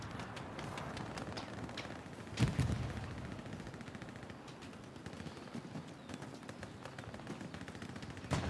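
Rapid gunfire crackles through a space-ship shooting video game, dense bursts running steadily under the mix with one sharper louder hit partway through.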